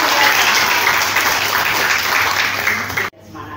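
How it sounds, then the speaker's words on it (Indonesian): Audience applause fills a ceremony for the installation of a city chapter leader in Bekasi, a loud, sustained burst of many hands clapping that stops abruptly near the end, leaving a quieter room. "Tepuk tangan buat Bapak."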